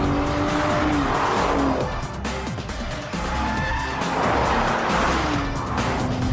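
A BMW Z4 3.0 and an Audi TT 3.2 race hard on a track, engines roaring close by while tires squeal and skid through corners in a continuous, loud drive.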